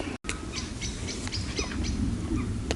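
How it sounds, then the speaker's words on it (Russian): Birds chirping outdoors at a riverside fishing camp, several short tweets and calls scattered across a steady background hiss, fairly faint and with no talking. "птицы чирикают."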